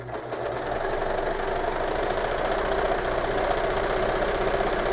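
An overlock machine closes the centre back seam of a denim dress, giving a loud, continuous, close-up whirring drone that holds steady throughout.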